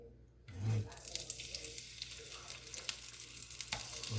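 Garlic sautéing in a pan for ginisang snow peas, a soft steady sizzle and crackle with a brief louder burst as it hits the oil, continuing close and even.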